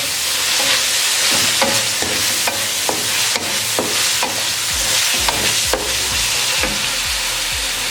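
Chicken hakka noodles with crushed red chilli and black pepper stirred and tossed in a hot pan: steady loud sizzle with rhythmic scraping strokes of a spatula, close and continuous.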